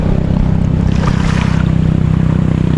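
Gentle sea waves washing at the shore right by the water's edge, a steady low rumbling wash with some wind noise, continuous and fairly loud without any talk.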